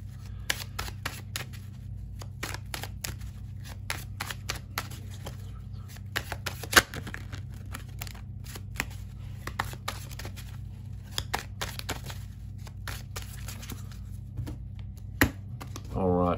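Tarot cards are shuffled by hand, giving a rapid run of crisp flicks and riffles with a few sharper snaps, close and fairly quiet over a faint low hum.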